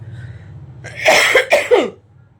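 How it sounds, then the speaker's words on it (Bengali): A person coughs in a home filled with smoke from burning mosquito-repellent incense: a quiet hum, then a harsh, close burst of about three coughs over roughly a second. "এই গন্ধে কাশি পাচ্ছে"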